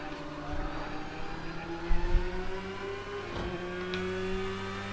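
Engine of a Porsche 911 GT3 race car lapping at Long Beach in Project Cars 2: a steady high whine that rises and dips through gear changes, with a brief heavier thump midway and no voices.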